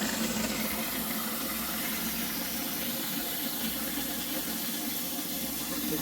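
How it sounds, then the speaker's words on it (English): Water pours and splashes steadily into a home fish tank, a continuous close rushing wash with no pauses and no voices. "This is where the water is going."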